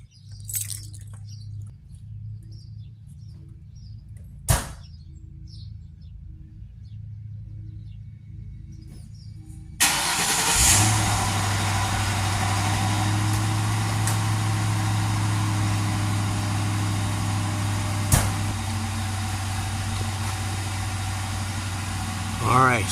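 A car engine cold-starting for the first time in almost two years: quiet low hum and a sharp click, then the engine catches with a surge and settles into a steady, loud idle rumble.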